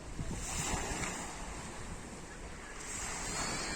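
Waves washing onto a stony beach on the Croatian coast in June, a continuous broadband surf wash with some wind buffeting the microphone, steady and fairly near, no voices.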